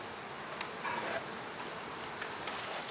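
A mass of bees buzzing outdoors near hives, a continuous soft droning hum at low level with no talk.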